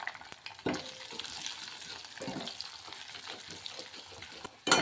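A tempering of spices with asafoetida crackles in hot oil for a village-style dal, a quiet sizzle with scattered pops and a sharp clatter at the start and end.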